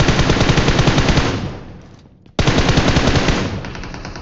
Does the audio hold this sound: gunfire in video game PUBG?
yes